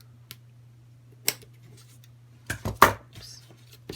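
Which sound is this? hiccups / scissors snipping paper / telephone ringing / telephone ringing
scissors snipping paper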